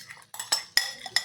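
Spice paste for a curd soybean dish goes into a wok with four or five sharp metallic clinks of a utensil against the pan, separated by short quiet gaps.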